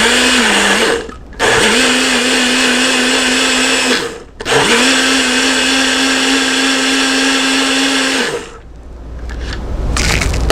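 A blender whirs loudly while mixing a tropical fruit smoothie with coconut. It runs in three long bursts with brief pauses between, and the steady motor pitch dips slightly under load. No one speaks.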